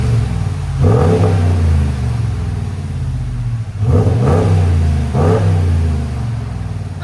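A 2022 RAM 5.7L V8 pickup with a Magnaflow muffler and stock resonators revs up sharply three times, each throaty exhaust roar rising and falling back to a rumbling idle, loud and close.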